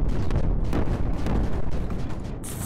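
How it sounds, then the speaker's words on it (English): Cannons fire continuously in the video game Creeper World 4, a dense, loud rumble of overlapping booms and blasts that ends in a brief high-pitched hiss. "Look at those evil cannons. Look at them go."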